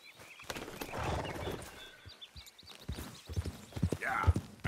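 Hooves clip-clop unevenly as a horse moves in the Red Dead Redemption II video game, soft and scattered at first, then sharper and louder strikes near the end, amid faint ambient game noise.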